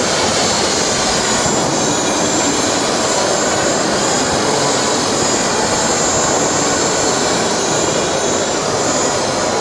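A small RC model helicopter, a 4.5-size machine, flies a basic aerobatic figure-eight at a model expo, its whining rotor and engine a loud, steady continuous roar with no pauses throughout.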